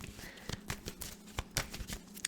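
Tarot cards are shuffled close up in a quiet room, giving soft, irregular papery riffles and taps.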